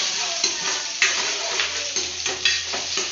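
Onions sizzle in hot oil in a pan for egg fried rice, with a steady frying hiss and occasional stirring scrapes and knocks, close and fairly loud.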